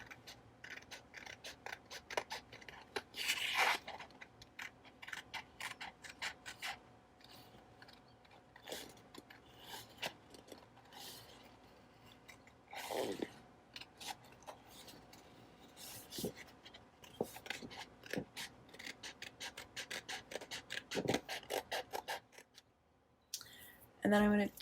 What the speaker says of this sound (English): I'm going to cut out this image right here.